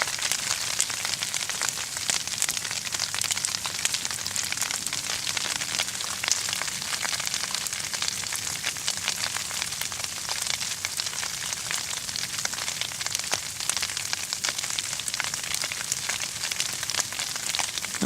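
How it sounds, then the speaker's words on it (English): Steady, dense hiss of freezing rain pattering on surfaces at a winter campsite in the woods, continuous and even throughout with no voices. "Oh, there comes the freezing rain."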